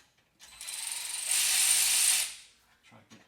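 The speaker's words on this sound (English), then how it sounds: "grab this electric ratchet here, 13 millimeter" A 13 mm electric ratchet spins on a Ferrari 430 exhaust mount, one loud whirring burst of about two seconds that ramps up and cuts off, followed by a few small clicks.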